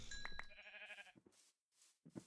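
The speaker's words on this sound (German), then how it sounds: "Und töten noch die restlichen Schafe hier," Sheep bleat in the Life in the Woods video game, with a quiet wavering bleat followed by a couple of short, soft calls, faint and close, with no talking.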